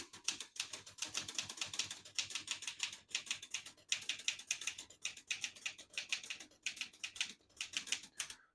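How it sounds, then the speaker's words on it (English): A 1964 Olivetti Lettera 32 portable typewriter, set to the red half of its ribbon, types out a line in quick, even bursts of crisp key strikes with brief pauses between words, close and clear. "I'll type a sentence in red on the next line and switch from black to red."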